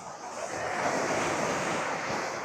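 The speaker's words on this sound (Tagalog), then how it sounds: "Lakas ng alon." Strong surf rolls onto a Boracay Island beach under heavy wind, a dense, continuous wash of water and wind noise at moderate level, with no voices.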